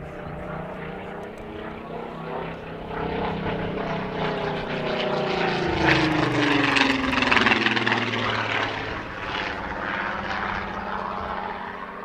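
A propeller-driven weather research aeroplane, now with the Battle of Britain Memorial Flight, flies past at an airshow, its engine drone swelling toward the middle and easing away again, steady and fairly loud throughout.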